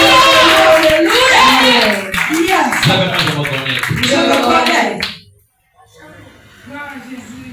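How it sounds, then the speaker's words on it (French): Church congregation clapping and cheering loudly during an evening testimony service, a dense burst of hands and raised voices that abruptly cuts off, followed by a quieter voice speaking. "Acclamez très fort pour la gloire de Dieu."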